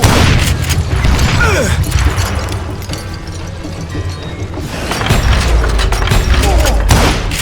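Loud gunfire and booming shots from the video game Call of Juarez: Gunslinger come in a dense, continuous barrage of bangs during a duel, with a character voice shouting over them.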